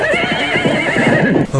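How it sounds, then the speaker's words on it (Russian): A horse whinnies loudly and close, a long wavering neigh with strong harmonics filling the clip, alone without any talk. "Охренеть, колдовская лошадь."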